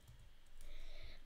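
Brief burst of computer keyboard typing while a command is entered into a Minecraft command block, soft clustered key clicks over a quiet background with no talking.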